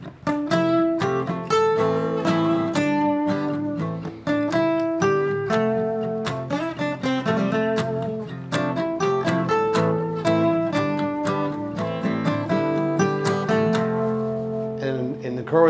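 A simple scale-based guitar part played in a steady, continuous run of plucked notes with strummed accents, loud and close with no talking over it.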